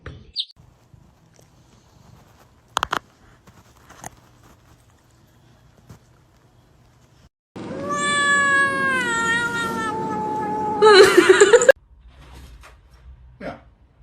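Cats meowing indoors: a long, loud, wavering yowl followed by a sharper, strained meow, with scattered soft knocks and faint movement around them.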